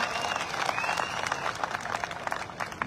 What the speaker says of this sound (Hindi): पुराने लोगों के लिए ताली बजाओ जोरदार